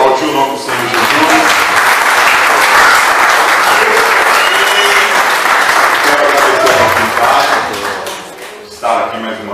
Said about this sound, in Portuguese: Pode aplaudir o nome do Senhor Jesus.